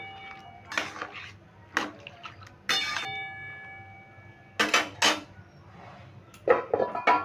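Taro stem curry with salt and turmeric being stirred in a metal pan, with scattered clinks and scrapes of the utensil against the pan in separate bursts and quiet pauses between them.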